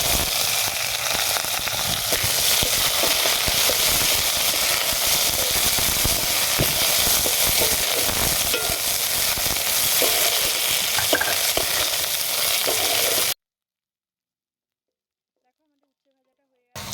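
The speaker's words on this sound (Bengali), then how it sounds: "এবার উচ্ছেগুলোকে ভেজে নেব।" Bitter gourd pieces frying in hot oil in a wok, a loud, dense, continuous sizzle with crackling and stirring scrapes for about thirteen seconds, then an abrupt cut to silence.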